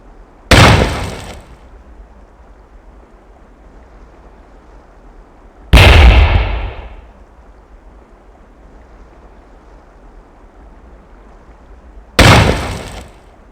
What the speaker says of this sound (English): Press the fire key to launch a grenade.